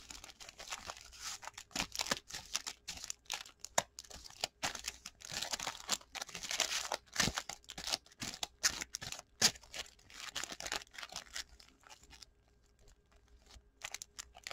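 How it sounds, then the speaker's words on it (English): Yu-Gi-Oh! Legendary Duelists: Magical Hero card packs are shuffled and handled close up, giving dense crinkly foil rustling and sharp clicking flicks in irregular bursts that fade out near the end, with no talk. "I'm doing deep shuffling with card packs"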